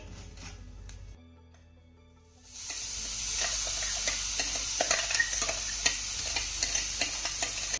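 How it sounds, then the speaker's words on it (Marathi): Ground green chilli drops into a hot tempering, with a quieter lull before a loud, steady sizzle begins, then a continuous hiss and repeated stirring scrapes throughout. "आता यामध्ये आपल्याला मिक्सरला फिरवलेली मिरची घालायची आहे"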